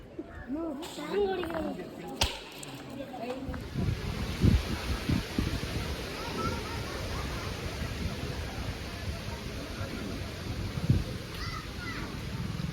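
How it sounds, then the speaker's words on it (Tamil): Strong wind blowing across a hilltop temple viewpoint at Biligiri Ranganatha, BR Hills, a steady broadband roar and buffeting close to the microphone, with people speaking over it early on. "காற்று நல்லா விசு விசுன்னு அடிக்குது"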